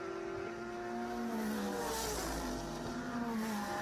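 GT race cars at Lime Rock Park brake hard into a right-hand corner, their engine notes sweeping downward as they pass close by, loud and continuous with no talk over them.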